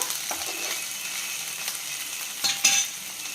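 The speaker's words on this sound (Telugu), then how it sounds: "సన్నగా తరిగి పెట్టుకున్న పచ్చిమిర్చి ఇవి కూడా పచ్చివాసన పోయిన దాకా వేయించుకుందాం" Finely chopped green chillies sizzle with onions in a hot pan, a close, steady frying crackle with a few stirring scrapes and a sharper clatter near the end.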